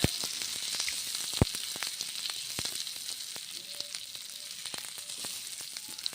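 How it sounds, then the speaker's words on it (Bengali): Mashed green peas fry in ghee with a soft, continuous sizzle broken by frequent small crackles and pops, and an occasional sharper tap of a spatula against the pan. "ঘি দিয়ে ভেজে নিচ্ছি মটরশুঁটি বাটা বেটে নিয়েছি ভেজে নিচ্ছি দু মিনিট ভেজে নেবো বেশ ভালো করে"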